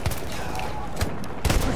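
Machine gun fire in a war video game, heard as rapid bursts of gunshots: several sharp, loud volleys close by, the heaviest cluster at the end, over a constant battle din.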